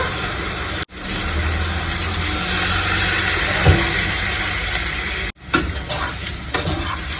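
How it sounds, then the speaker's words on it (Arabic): Tomato and curry mixture with black pepper sizzling in a pan as it is stirred, a loud steady hiss broken by two short pauses, then scraping stirs and clatters toward the end. "اقلبها كويس، هغطي عليها واسيبها تتسبك على نار هاديه"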